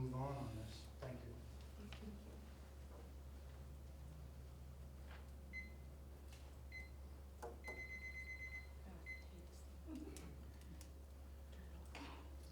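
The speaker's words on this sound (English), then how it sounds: "It sounds like my alarm clock." A faint, alarm-clock-like electronic beeping sounds in a police advisory board meeting room. A few thin, high beeps come midway over a steady low hum and quiet room noise.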